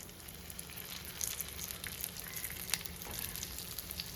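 Folded Kerala-style snacks frying in a little oil in a pan, a soft continuous sizzle with scattered light pops and crackles, fairly quiet and close, without talk.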